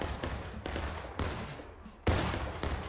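Civil War musket fire in the War of Rights video game: four distinct, fairly loud gunshots at irregular spacing, the last the strongest, over a steady backdrop of distant battle noise.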